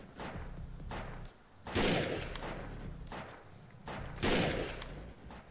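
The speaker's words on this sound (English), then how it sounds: "I always suggest if you're going to go with the sniper rifle to go with the bolt action, which is what we got here." Bolt-action sniper rifle firing in the video game Defiance: two loud, sharp cracks a couple of seconds apart, each with a booming tail, over a steady low game background and no speech.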